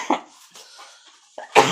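A woman coughs a few times, close and sharp, with short throat-clearing bursts, a quiet breath between them and a louder final cough, in an otherwise quiet room.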